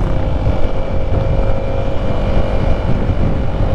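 A manual motorcycle engine labors as it climbs uphill, giving a loud, close, continuous rumbling drone mixed with wind buffeting and no speech.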